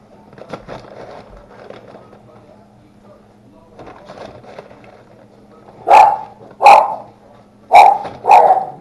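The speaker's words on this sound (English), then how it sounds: "The dogs are, like I said, my husband's in and out, and so they are barking." A dog barks loudly four times in two pairs near the end, after quieter talk and household noise.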